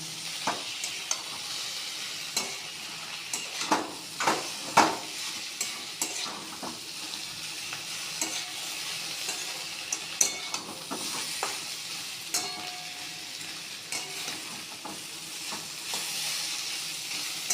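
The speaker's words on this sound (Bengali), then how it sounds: "মাছগুলো দিয়ে নেড়ে ছেড়ে দেবো। এক মিনিট মতো একটু ভেজে নেব।" Small mourola fish fry in a pan with Kashmiri chilli powder, stirred as they cook: a steady bright sizzle and hiss runs throughout, broken by irregular scraping knocks from the utensil against the pan. No one speaks.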